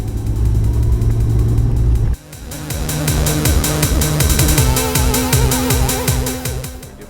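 A car driving along, its engine droning steadily before a sudden drop, then a rhythmic revving pulse as the run continues, close and fairly loud with no talk.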